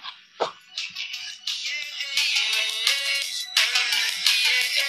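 OnePlus Bullets Wireless Z Bass Edition earphones playing at full volume, giving thin, tinny melodic tones that start after a brief pause and continue steadily, caught at a distance by a separate microphone.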